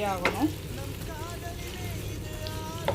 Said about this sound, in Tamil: சின்ன வெங்காயம் பூண்டு நல்லா ஆயிலில் ஃப்ரை